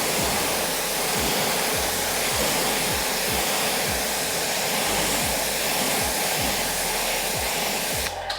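A pressure washer rinsing car wheels, a loud continuous close spray hiss with a faint repeating pulse of the pump beneath, cutting off at the end.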